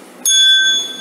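A math quiz app for kids sounds a wrong-answer alert, a single bright bell-like ding that strikes suddenly and rings with a clear sustained tone for under a second.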